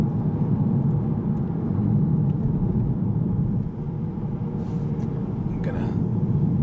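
A 2015 Audi TT drives along a road with steady, loud engine and road rumble throughout, and a person talks over the noise inside the car.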